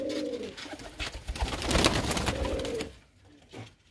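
Pigeons coo softly in a loft amid a dense wash of rustling and fluttering, the cooing repeating at the start and again near the middle before fading.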